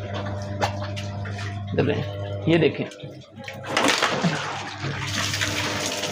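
Water rushes and splashes steadily out of an LG top-load automatic washing machine on a spin-only cycle after a UE error fix. The surge swells loud midway and keeps going under someone speaking briefly.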